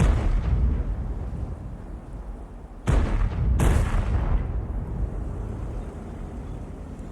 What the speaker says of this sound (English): they're just blind firing it, trying to see if they can get some early damage on them